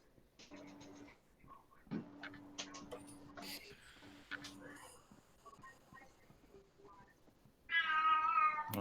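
A cat meows a few times, soft and somewhat distant, amid quiet room noise and brief voices, followed by a louder, harsher yowl near the end.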